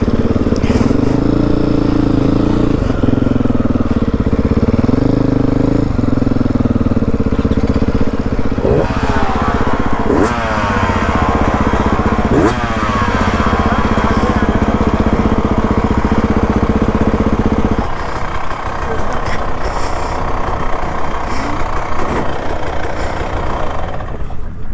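A Beta dirt bike engine runs loud and close, a rough steady drone with small revs rising and falling before dropping to a lower idle toward the end.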